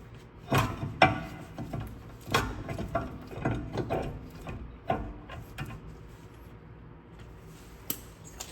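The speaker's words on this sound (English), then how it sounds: "we're gonna put our screw in. Just gonna loosely thread it." A screw is loosely threaded by hand into a rear brake rotor on a 2009-2016 VW Tiguan, giving close, uneven metallic clicks and ratchet-like ticks with short pauses between them, and no talking.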